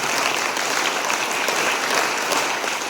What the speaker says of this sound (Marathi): प्रथमतः माझ्या सर्व असणाऱ्या शिक्षकांसाठी, गुरुजन वर्गासाठी एकदा जोरदार टाळ्या वाजवा सगळ्यांनी